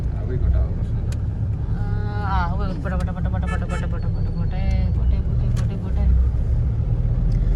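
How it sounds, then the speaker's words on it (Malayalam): An auto-rickshaw draws closer along a road in Karnataka, its engine rumbling steadily beneath a person talking, with passing motor noise swelling in the middle. "ഇനിയിപ്പോ ഒരു ഓട്ടോറിക്ഷ വരുന്നുണ്ട്"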